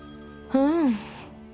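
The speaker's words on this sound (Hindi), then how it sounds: "और फोन बज रहा है" A single short electronic ringtone chirp, a rising-then-falling warble that sounds once and stops, clear against a quiet background.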